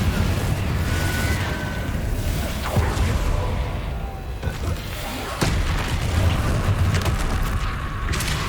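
Booming blasts of the Confringo explosion spell in Hogwarts Legacy, several heavy bursts with whooshing tails cutting through ongoing game noise, with a loud impact near the middle and another toward the end.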